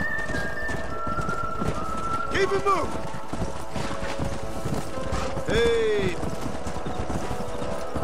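Horse hooves clip-clop steadily beneath a herd of horses on the move in the Western video game Red Dead Redemption, with a game soundtrack running under them and a man calling out briefly over the hoofbeats.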